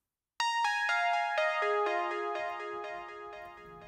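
Prophet 5 synth plays a second lead line soaked in delay, a bright string of stepping notes that ring on and repeat behind each new one, rising out of silence and then trailing into a dense echoing wash.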